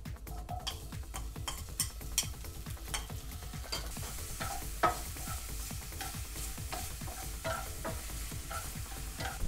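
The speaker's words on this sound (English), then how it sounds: "the garlic is going, sauteing for about 2 minutes or so" Garlic and cherry tomatoes sauté in a pan for a vegan roasted pasta, giving a steady close sizzle broken by repeated scraping stirs and light clinks throughout, with no talking.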